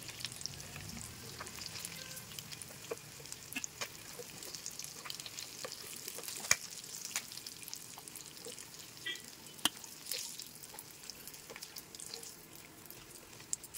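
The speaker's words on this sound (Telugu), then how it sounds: "ఇప్పుడు మిగతా పీసెస్ని కూడా ఫ్రై చేసుకొని పక్కన పెట్టుకుందాం" Chanduva fish pieces frying in shallow oil, a close, continuous crackling sizzle with scattered sharp pops and spits, no voices.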